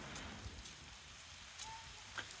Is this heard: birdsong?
no